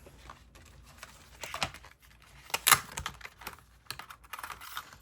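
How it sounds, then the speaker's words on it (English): Paper ice cream shape being die cut for card making, heard as soft, scattered clicking and rustling taps with a brief sharper burst in the middle, close and fairly quiet, no voices. "let's go ahead and die cut my ice cream out"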